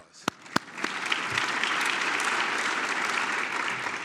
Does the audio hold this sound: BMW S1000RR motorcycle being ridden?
no